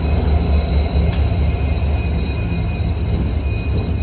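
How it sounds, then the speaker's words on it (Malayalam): The Silchar Rangiya Express arriving at platform 5 on the Haflong line, a steady heavy low rumble of rolling wagons with a brief sharp squeal partway through, loud and close. "ട്രെയിൻ നമ്പർ 156-12 സിൽച്ചർ റാങ്കിയ എക്സ്പ്രസ് ഇതാ പ്ലാറ്റ്ഫോം നമ്പർ"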